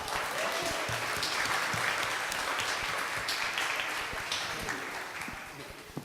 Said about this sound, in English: can we have a little round of applause for both these speakers for showing up?